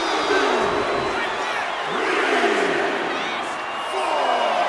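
Arena crowd cheering in the WWE 2K25 wrestling video game, a loud sustained roar with rising whoops and swells as a wrestler plays to the crowd, while a commentator talks over it.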